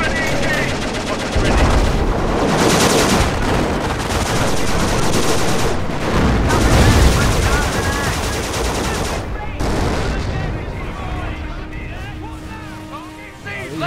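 Sustained AK rifle gunfire in Company of Heroes, with dense, continuous bursts of automatic fire and battle noise lasting most of the stretch, and voices calling out over it before it thins near the end.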